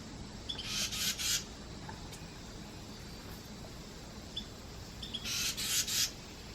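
House wrens chirping while feeding hatchlings: two short clusters of high, rapid chirps, several seconds apart, faint against a steady hiss of background noise.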